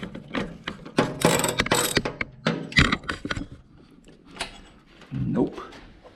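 Hand ratchet loosening a bolt on a Honda 928WAS snowthrower during auger and drive belt work, giving several close bursts of quick clicking mixed with metal clinks and handling noise, with someone talking in between.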